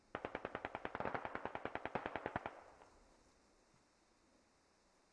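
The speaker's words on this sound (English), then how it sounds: "Vaxton's throwing some rounds through the window here, along with synchronized" Rapid automatic gunfire in the video game Squad is shot through a window: a loud burst of about two dozen evenly spaced shots over two and a half seconds, then a fading echo and quiet.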